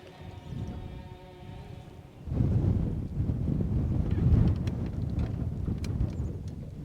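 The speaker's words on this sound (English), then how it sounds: "Just hate this wind." Gusty wind buffeting an outdoor microphone during fishing, a low broadband rumble that jumps louder about two seconds in and keeps roaring unevenly to the end, with no talking.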